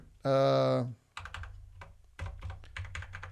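Keys clatter on a C64 Ultimate keyboard in quick irregular taps and short bursts, close and crisp, following a brief loud tone at the start.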